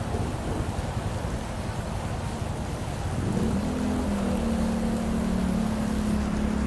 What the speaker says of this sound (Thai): เมื่อกี้ฝนตกแรงมากนะ